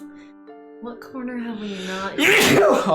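A single sharp sneeze bursts out near the end, right after a few spoken words from a person.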